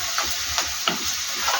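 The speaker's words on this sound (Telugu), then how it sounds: "ఉల్లిపాయ, పచ్చిమిరకాయ, కరివేపాకు వేసుకున్నాం" Onion, green chili and curry leaves sizzle in hot oil as a curry starts cooking: a steady bright hiss with a few soft crackles and pops.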